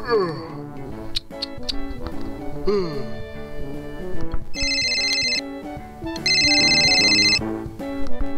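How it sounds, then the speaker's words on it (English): A phone rings with a melodic electronic ringtone, loud and close, its bright repeating bursts recurring through the clip. "Oh, would you look at that? My phone's ringing."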